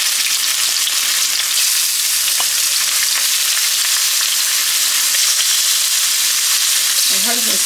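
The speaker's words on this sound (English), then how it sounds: "you're cooking shrimp, you're not going to cook your shrimp for very long" Shrimp sizzle loudly in a hot pan as a dense, steady hiss of frying, close and continuous, with a brief low clatter near the end.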